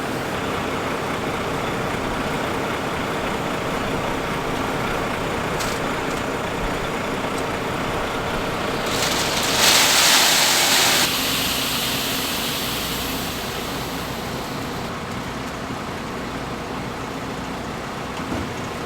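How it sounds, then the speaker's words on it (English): Grain bin aeration fans running steadily on a snowy farm, a broad continuous droning whoosh with a brief louder hissing surge partway through, no voices. "I got the fans going now."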